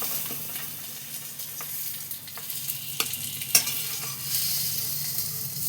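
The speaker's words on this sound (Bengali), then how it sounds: "আমি ভেজে নিচ্ছি। দেখো, আমার আলুও ভাজা হয়ে গেছে" Boiled potatoes fry in oil in a pan, a steady close sizzle with scattered spoon taps and scrapes, the hiss swelling toward the end.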